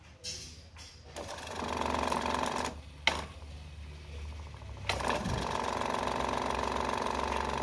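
A steady mechanical whir with a coarse rattling drone, interrupted by a couple of brief clunks, from a clothes dryer drum spinning close by with a weak, shaking, humming motor.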